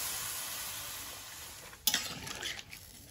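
A spoon stirs crab curry in a pan, a quiet sizzle building to a sudden scrape and a few clattering stirs near the end.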